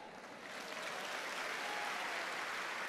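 Applause from a church congregation during a sermon, dense steady clapping that swells after the first half second and holds loud and even, with no talk over it.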